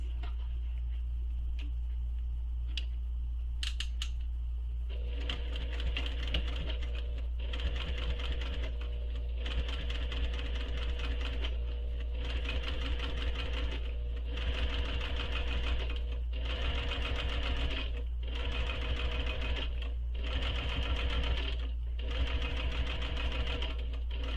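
A sewing machine top stitches a backpack in steady bursts of rapid mechanical clatter over a constant low motor hum, with brief pauses between runs, close and without talk.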